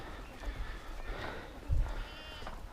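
Goats on a small farm bleat faintly in the background at a distance, with a couple of brief, soft calls over low outdoor rumble and no talking.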